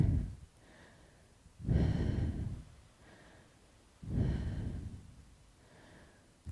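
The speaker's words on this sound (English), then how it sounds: "Couple more breaths here." Deep breathing during a strong yoga pose, two long audible inhales or exhales through the nose, close and slow, separated by quieter pauses.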